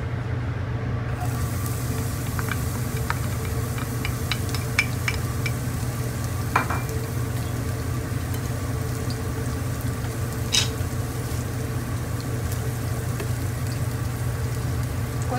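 Chopped onions sautéing in a little oil in a pan, the start of a Filipino-style minced pork dish, give off a steady close sizzle with a few light stirring clicks and taps throughout.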